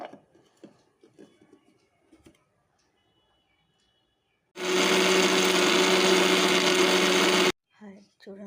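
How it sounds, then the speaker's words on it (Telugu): A mixer grinder grinding red onion chutney whirs loudly for about three seconds, a steady high-pitched motor drone that cuts off abruptly, with a voice speaking before and after. "మిక్సీ పడుతున్నాను"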